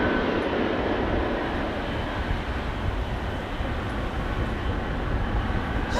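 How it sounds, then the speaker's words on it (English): A China Airlines A350 taxis at Amsterdam Schiphol Airport, heard as a steady, broadband engine roar and rumble that holds at an even level throughout, with no voices. "it says that China Airlines A350 is taxiing"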